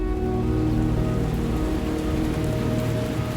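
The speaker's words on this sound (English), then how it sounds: "It began raining sometime while we were setting up." Rain falling steadily, a dense even patter of drops on surfaces with a faint underlying hum, constant throughout and without speech.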